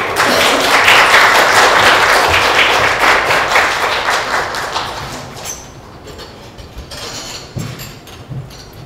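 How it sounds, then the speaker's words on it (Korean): An audience at a comics festival talk claps to welcome a French comics expert on stage, a dense, loud burst of applause that thins and fades into scattered claps near the end. "함께 큰 박수로 맞아주시고"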